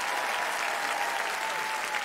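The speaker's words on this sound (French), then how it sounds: "on peut les applaudir encore très fort." Applause from a holiday choir concert audience, a smooth, even roar of many distant hands clapping at a steady level, with a faint sustained tone running through it.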